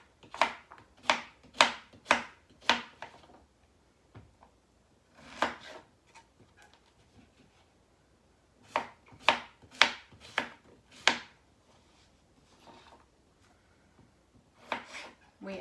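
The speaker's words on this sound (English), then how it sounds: "Let's cut up all our vegetables for our Mediterranean lemon herb chicken." Knife chopping yellow squash and other vegetables on a board for a Mediterranean lemon herb chicken: quick bursts of three to five close, crisp cuts separated by short pauses, with faint kitchen handling between.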